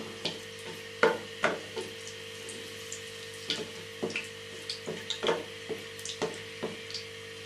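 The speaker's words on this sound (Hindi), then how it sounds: "ऑयल गर्म हो चुका है, अब हम इसमें ये डाल लेते हैं और इसको थोड़ा सा रोस्ट कर लेते हैं।" Whole spices roasting in hot oil in a pan while making yogurt chicken, a quiet bed of sizzle broken by frequent small pops and crackles at an irregular rhythm, with no talking.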